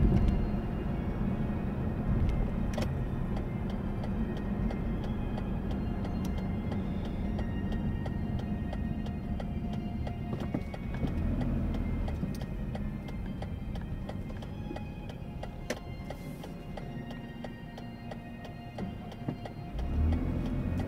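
A BMW's engine in a racing video game drones steadily and loudly throughout, a continuous mechanical hum with little variation and no talk.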